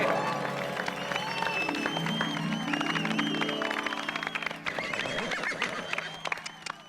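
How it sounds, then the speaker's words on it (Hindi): Audience applause breaks out loudly in a sustained wash of clapping from a crowd, with music or voices mixed in during a respectful welcome on a comedy show set. "पूरे सम्मान के साथ जोरदार तालियां इनके लिए।"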